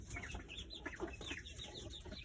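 A broody hen clucks and grumbles in a string of short, agitated calls at close range, with faint background noise and no talk.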